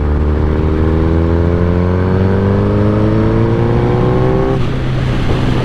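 A 2008 Suzuki GSX-R 1000 fitted with velocity stacks, suspected of a bad clutch or transmission problem, revs at low RPM in low gear: a loud, steady engine drone whose pitch climbs smoothly for several seconds, then drops and roughens near the end.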